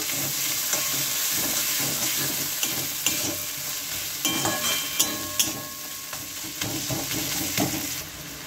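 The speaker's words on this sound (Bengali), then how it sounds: "এখন থাকবে হাতে বাটা সেই জিরাটা, একটু কষিয়ে নেব" Hand-ground cumin paste fries in a pan with a steady sizzle and hiss, broken by sharp scraping stir strokes and small spatters. It is close and alone, and the curry pairs ash gourd with prawns.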